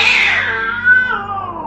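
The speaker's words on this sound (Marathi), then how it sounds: "मांजरी भांडल्यासारखे विचित्र आवाज येऊ लागले." Cats fighting and caterwauling in a forest at night, a loud close yowling cry that rises and slides downward over under two seconds, with no talk.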